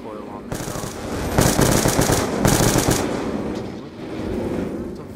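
Rapid automatic gunfire rattles in Black Ops 2 Zombies on the Town map, sounding as sustained bursts with short pauses and a faint voice murmuring underneath.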